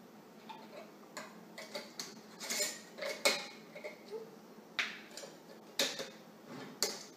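A glass jar lid set onto a cookie jar packed with dry cookie ingredients, giving a handful of light clinks, taps and ticks spread unevenly over several seconds, close and fairly quiet with no talking.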